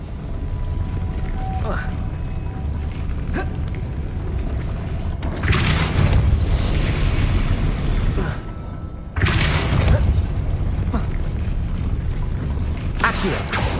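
A Depulso force spell cast in Hogwarts Legacy, heard as broad whooshing bursts that swell and cut off, several in sequence, loud against a low game ambience.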